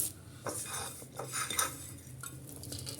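Mashed potato being mixed with spices in a bowl, a steady run of soft scraping and clinking spoon strokes against the bowl, fairly quiet with no talking.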